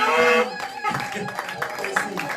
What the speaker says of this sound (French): Alléluia, alléluia, on acclame.